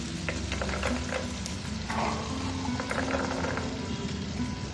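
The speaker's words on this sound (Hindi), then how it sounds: "अब यहाँ मैं इसमें मटर ऐड करूंगी।" Peas stirred into chicken frying in a pan for chicken chow mein, giving a steady close sizzle with scraping stir strokes throughout.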